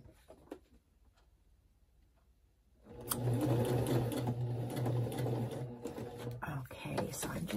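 A sewing machine stitches a rectangle of fabric for a slit binding on a scrappy journal, starting after a quiet pause and running as a steady, close mechanical whirr with a rapid ticking rhythm until the end.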